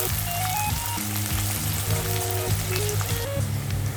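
Onions frying in a pan for Indian ghugni, a steady close sizzle and crackle filling the whole stretch, with faint kitchen tones underneath and no talking.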